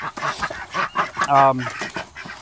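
Chickens on a small farm cluck around a feed station stocked with egg layer pellets, with several short close calls and one longer, tonal squawk near the middle; human voices are also faintly present.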